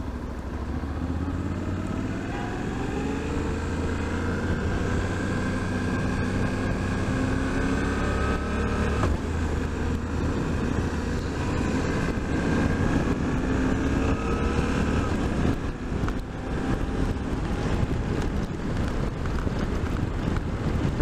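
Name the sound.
Suzuki V-Strom 800 DE motorcycle engine while riding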